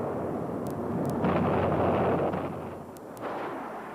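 Maverick guided missile launch in a 1990 military documentary, a sustained loud roaring blast with rumbling bursts, swelling in the middle and easing toward the end with a short renewed surge.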